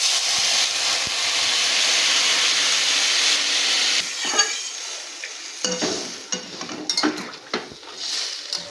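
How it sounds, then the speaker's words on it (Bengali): Pan of fish curry with potato and green banana bubbling on the stove, a dense hissing simmer for about four seconds, then fainter clinks and scrapes of utensils against the pan. "ঝোলটা আমার খুব ভালোভাবে ফুটে গেছে"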